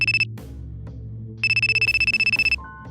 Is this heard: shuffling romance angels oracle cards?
no